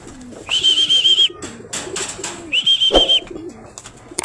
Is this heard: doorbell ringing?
no